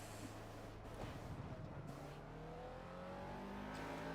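Ginetta G40 race car engine on cold tires at Catalunya National in Project Cars, a droning engine rising through gears with rev sweeps and shifts, steady and moderately loud, alone.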